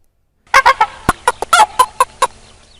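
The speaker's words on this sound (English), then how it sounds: "The geese laughed at the ugly duckling, and the hens pecked at it." Geese honk in a farmyard, a quick run of about a dozen loud, close, nasal calls in uneven bursts, with hens clucking among them.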